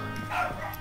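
A dog in the video game Call of Juarez: Bound in Blood gives one short, moderately loud bark over a low background hum.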